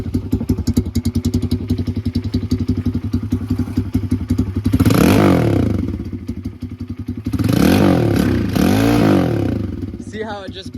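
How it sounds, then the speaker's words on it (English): A Tao Tao DBX1 140cc dirt bike engine idles with a rattly clatter, then revs up loudly twice in long swelling bursts, bogging slightly before settling back, close and loud throughout. "Let's give her a few revs."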